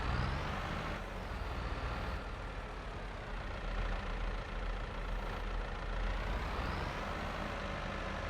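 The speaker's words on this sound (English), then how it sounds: "I really do love this front loader tractor" A front loader tractor engine in Farming Simulator 22 runs at a steady low rumble throughout, idling close and continuous with no voices over it.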